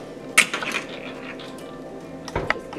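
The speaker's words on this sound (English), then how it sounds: "pop this open, and make sure I don't get any shells in there" An egg is cracked open for banana bread, with a sharp close crack against a hard edge, faint squishy handling, and then a second clack near the end, over quiet kitchen room tone.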